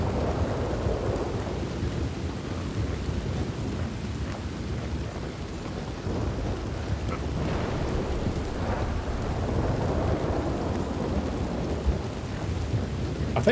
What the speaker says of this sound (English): I think the thunder sounds a bit overdone.